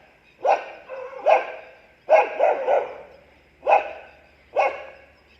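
A pack of dogs barks from somewhere ahead as someone steps into a school building. Five or six sharp, loud, fairly close barks come in an uneven rhythm, some in quick clusters, with no voices over them.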